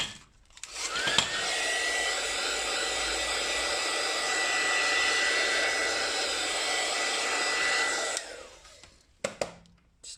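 A hair dryer dries a gel print made with paint. It switches on and blows a steady, close, loud whooshing roar with a whine for about seven seconds, then cuts off, followed by a few handling knocks.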